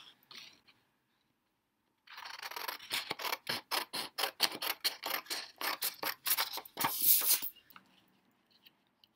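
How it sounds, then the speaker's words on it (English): Scissors cut through a sheet of drawing paper in a rapid run of crisp, rhythmic snips close by, after a brief quiet start, and nothing else is heard. "take my pair of scissors and cut that section off"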